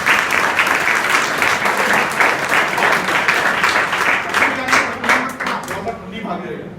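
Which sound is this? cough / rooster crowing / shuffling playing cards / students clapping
students clapping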